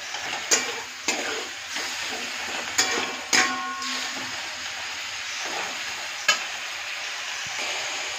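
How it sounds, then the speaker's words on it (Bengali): Powdered spices for spinach (palong) masala fry in a pan, a steady sizzle under sharp clicks of a spoon scraping and stirring, alone and close by with no talk. "একে একে সমস্ত গুঁড়ো মশলা দিয়ে দিলাম। এবার মশলাটা ভালো করে কষিয়ে নিতে হবে।"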